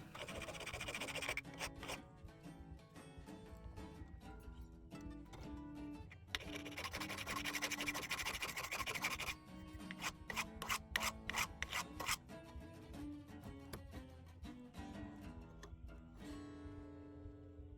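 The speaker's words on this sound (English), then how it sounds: "So eventually I just decided, let's just grind it off." A stuck part on a Recording King guitar is ground off, producing harsh rasping bursts that come in long continuous passes and short rapid strokes, close and steady with no talking.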